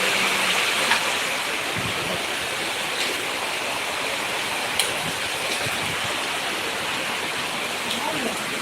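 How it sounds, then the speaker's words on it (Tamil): Heavy rain pours down in a dense, continuous roar that stays loud and close throughout, with a few faint taps and splashes rising out of the wash. "மழை பயங்கரமாக வருது."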